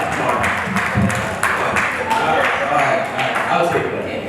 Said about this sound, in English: Cecilia Willis, can we clap it up for her, please?